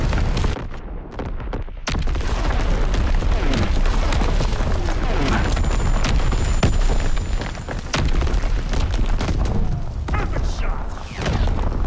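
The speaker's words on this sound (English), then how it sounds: "Incoming enemy artillery. Get to cover." Heavy artillery blasts from enemy shelling in Call of Duty WWII boom and crack repeatedly, loud and close, with a brief lull near the start followed by a dense barrage of explosions and gunfire.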